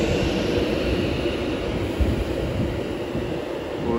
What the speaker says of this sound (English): As passing is a Avanti West Coast service from London Euston to Glasgow Central